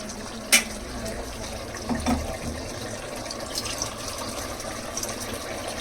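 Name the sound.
water being poured into mutton drumstick curry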